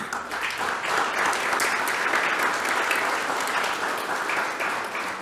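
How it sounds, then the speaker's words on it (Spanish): A church congregation gives a strong round of applause during an evening worship service, a loud, even wash of many hands clapping that holds steady for about five seconds with no speech over it. "Démosle un fuerte aplauso al Señor."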